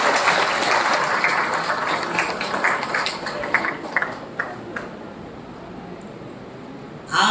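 A crowd claps at a Chhattisgarh government launch of the Mahtari Vandan scheme, dense clapping at first that thins into scattered claps and dies away, then a brief sharp noise right at the end.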